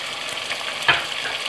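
Vegetables with tomato, salt, red chilli, turmeric, ground coriander and cumin sizzle steadily in a pan, with one brief scrape of stirring breaking through the soft, continuous frying hiss.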